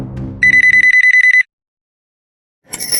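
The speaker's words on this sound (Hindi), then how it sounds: "मैंने नहीं उठाया तो तुम लैंडलाइन पे फोन कर रहे हो" A landline telephone rings loudly and alone in a burst of rapid electronic trills for about a second, followed by silence and then the start of another ring.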